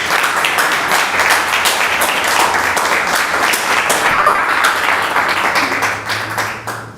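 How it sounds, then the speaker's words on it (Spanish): A live audience at a book presentation in La Serena claps steadily, dense applause sustained for several seconds before tapering off slightly near the end. "un fuerte aplauso"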